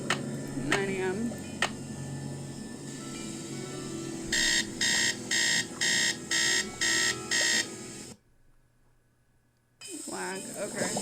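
Alarm clock in the 2001 video game Nancy Drew: Treasure in the Royal Tower rings in about seven loud, evenly spaced electronic bursts, with a person talking beforehand over faint game ambience, then a sudden drop to near silence.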